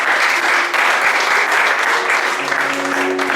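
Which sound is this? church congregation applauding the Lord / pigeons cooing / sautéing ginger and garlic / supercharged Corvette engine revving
church congregation applauding the Lord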